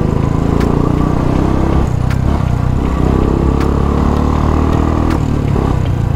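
A motorcycle engine idles loud and close with a deep, steady exhaust burble, a continuous throbbing drone with occasional clatter and no break.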